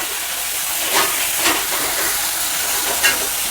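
Onion paste hisses and sizzles steadily in hot oil in a pan for a Bengali prawn malai curry, a close, continuous frying crackle with a few brief louder pops.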